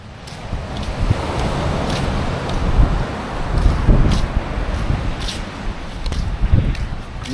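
Gusty wind buffets and roars across the microphone in uneven waves, with some scattered knocks and rustling underneath.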